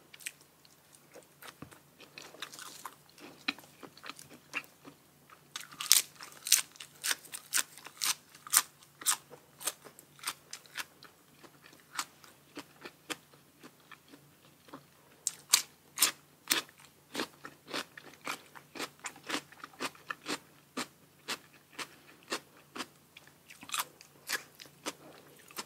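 Someone eating grilled pork balls on skewers with spicy dipping sauce and fresh vegetables, close and quiet, with repeated crisp bites and wet chewing in irregular clusters, no talk.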